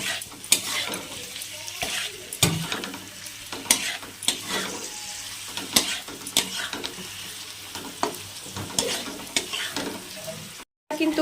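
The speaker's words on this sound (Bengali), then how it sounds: "এখন ভালো করে এটা আবার নাড়াচাড়া করে নেব।" Amla pickle with jaggery being stirred in a pan, a spoon scraping and clacking in irregular strokes over a steady close sizzle, with a brief dropout near the end.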